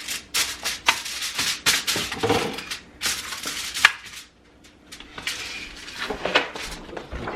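Aluminum foil is crinkled and pressed into a pan, with close, bright rustling and crackling in irregular bursts and a brief quiet gap midway.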